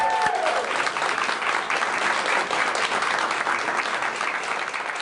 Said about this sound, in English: Please give a round of applause for John Varanese.